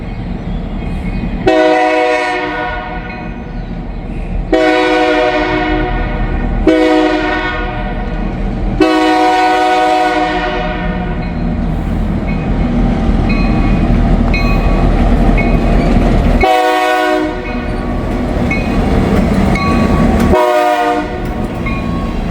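A short freight train rumbles past up close at a crossing with no bells, a loud horn sounding in several long blasts, the wheels and cars roaring steadily underneath.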